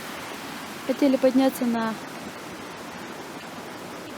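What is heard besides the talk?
rain falling in Arkhyz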